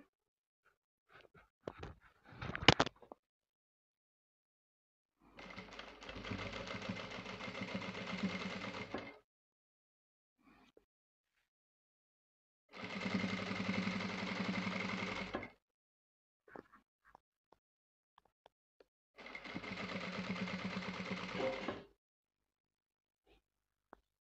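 A sewing machine stitches a waistband onto sweatpants in three steady whirring runs of a few seconds each, separated by quiet pauses with small handling clicks, close by and without talk.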